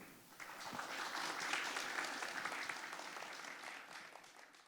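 Audience at a forum on Asian culture and architecture gives warm applause, a dense steady clapping that swells and holds for several seconds before tapering off, fairly distant in a hall.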